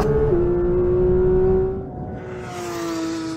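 A Porsche 911 GT3 launches hard with traction control and ESC switched off, its engine screaming at a steady high pitch, then dropping away as the run fades out.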